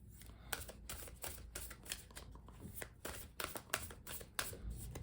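Cards being riffle-shuffled repeatedly, a quick rapid flutter of snapping cards in bursts, close and fairly loud, with no talking.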